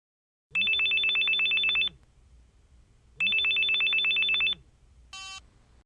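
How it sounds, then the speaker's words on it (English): Two long bursts of a classic electronic telephone ring, each about a second and a half, separated by a pause and followed by a brief higher tone, loud and clear with no talking. "Listen to Brad's phone call."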